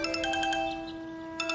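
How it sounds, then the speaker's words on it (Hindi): A phone rings in short, repeated electronic tones, a quick burst of chiming beeps, a pause, then another burst, fairly quiet indoors. "रिंग तो जा रही है"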